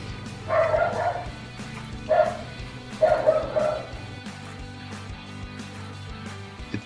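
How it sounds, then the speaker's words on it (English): Several dogs bark in another room in three muffled bursts of rapid yips and bow-wows, separated by short pauses, loud but dulled by the walls. "my dogs were in the other room going crazy"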